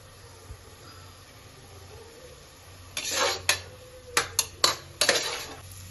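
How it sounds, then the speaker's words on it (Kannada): A spatula scrapes and clanks against a pan while fenugreek leaves are sautéed in oil, a run of loud metallic scrapes and knocks following a quiet stretch with faint background hum. "ಈಗ ಎಣ್ಣೆಲಿ ಸೊಪ್ಪು ಚೆನ್ನಾಗಿ ಬಾಡಿಸ್ಬೇಕಾಗುತ್ತೆ."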